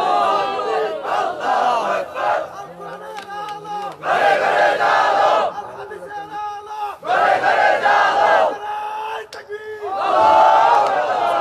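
A large crowd at a Bengali Islamic religious rally chants takbir in bursts, loud call-and-response shouts of Allahu Akbar surging and pausing over about eleven seconds, with a single voice leading between the crowd's replies.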